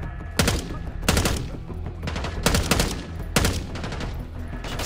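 Video game gunfire, several loud sharp bursts of rapid shots in clusters, separated by brief gaps over a background of battle noise.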